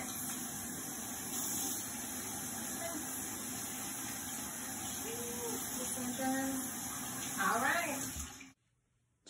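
Hands being rinsed under a running tap during a children's handwashing demonstration, with steady water flow throughout. It cuts off near the end and is followed by a brief voice.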